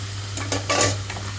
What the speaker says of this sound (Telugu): హై ఫ్లేమ్లోనే ఉంచి వేయించుకుంటున్నానండి